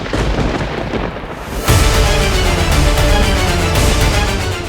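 Thunder rolls from rumbling storm clouds, a deep low boom that breaks out suddenly after a quieter stretch and keeps rumbling loudly to the end.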